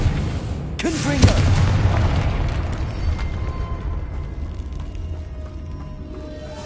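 The Confringo explosive spell from the game Hogwarts Legacy goes off as a single heavy boom, followed by a long, low, rumbling tail that fades slowly, with a voice speaking over it.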